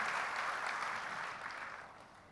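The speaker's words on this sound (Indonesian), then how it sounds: "Yuk kasih tepuk tangan yang lebih double lagi dong buat Tuhan kita Yesus Kristus." An audience applauds during a church service sermon: dense, continuous clapping that gradually fades out, with no speech over it.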